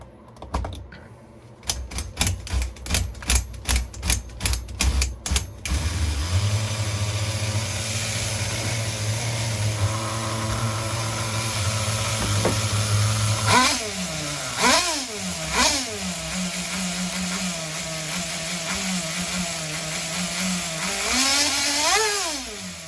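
HPI RS4 nitro RC car engine running slightly rich on new fuel, first a rapid train of sharp pull-start ticks, then a steady buzzing idle that rises into several revving whines, close and fairly loud.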